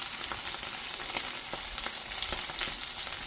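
Salmon fillet frying skin-side down in a pan gives a steady, close hiss that runs unbroken throughout, with small pops and crackles scattered through it. No one speaks.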